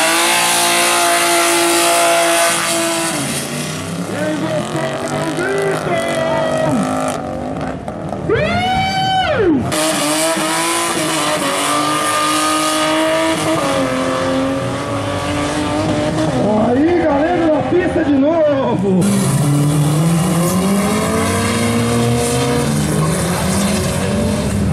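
Chevrolet Camaro drag racing at a 2018 drag event in Fernandópolis, its loud engine revving and rising through gears, with sharp sweeps and tire noise close by, while an announcer talks over it throughout.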